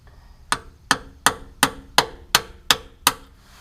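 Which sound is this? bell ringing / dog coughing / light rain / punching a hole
punching a hole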